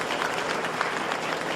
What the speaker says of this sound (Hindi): उसके लिए ताली बजाओ।